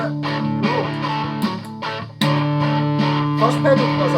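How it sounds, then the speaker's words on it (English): Electric guitar through a distortion pedal, sustained overdriven chords and notes with a gritty, buzzing tone, continuous and fairly loud, with a sharp new attack partway through. "Up the distortion a bit."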